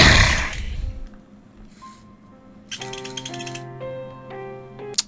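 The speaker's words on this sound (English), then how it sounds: "That is the sound of my PSP almost dying." A struggling PSP handheld console gives off mechanical whirring, clicking and rattling, with a sustained hum and a jittery, chattering burst near the end, heard close over faint game sounds.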